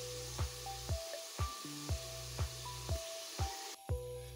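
Green chilies fry in a pan before red lobiya goes in, producing a faint, steady sizzling hiss that runs under soft rhythmic music and drops away near the end.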